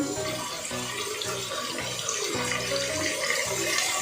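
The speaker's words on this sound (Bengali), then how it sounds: "একটু জল দিয়ে দেবো।" Water pours from a tap into a pan of marinated chicken for a Kolkata-style chicken biryani, a steady close splashing stream running the whole time with faint clinks and no voices.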